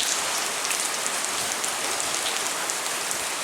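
Heavy rain pours steadily during Hurricane Ian, a dense, continuous hiss of drops pelting surfaces close by, loud and unbroken with no voices over it.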